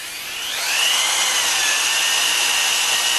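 A Baileigh TN-250 tube notcher saw cutting tubing, an old blade working against a 6061 aluminum saw block: a steady, bright whirring grind that swells over the first moment, then holds loud and even.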